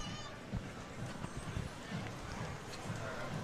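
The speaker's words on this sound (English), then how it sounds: "We see the riderless horse coming into the camera shot." Hooves of the riderless horse clop along the street in a Memorial Day parade, a faint, steady rhythm mixed with crowd ambience and partly masked by commentators talking.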